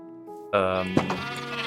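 A single drawn-out sheep bleat from the Minecraft video game sounds close and clear, starting abruptly after a soft background tone and holding its wavering cry to the end.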